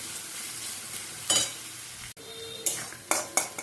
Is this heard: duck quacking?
no